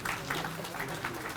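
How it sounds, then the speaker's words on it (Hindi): An audience at a ceremony marking an anniversary of a state legislative assembly claps faintly and steadily in a short burst of distant applause. "साथ में आपकी तालियां सम्मान स्वरूप"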